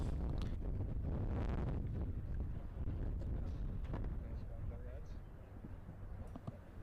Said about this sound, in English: as you can see, it is windy